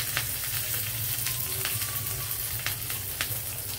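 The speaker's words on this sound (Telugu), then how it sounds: "కరివేపాకు వేయగానే సుయ్యమంటాం చూసారా" Curry leaves crackle in hot oil with cumin seeds, mustard seeds and dried red chillies, a steady close sizzle broken by sharp pops and spits.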